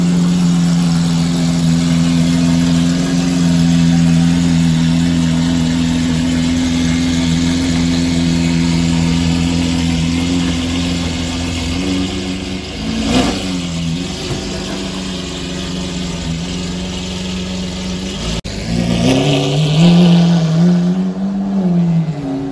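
A Lamborghini Aventador V12, a customised example spotted on a Paris street, idles loudly and steadily, then gives a couple of sharp revs near the end, close and alone.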